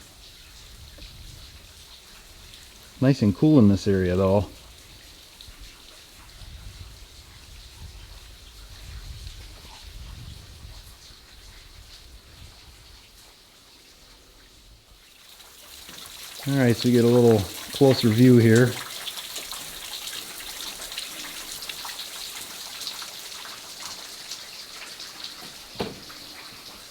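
Water trickles and drips inside Big Sand Cave at Wyalusing State Park as a steady soft patter running through the whole stretch, while someone talks briefly twice over it.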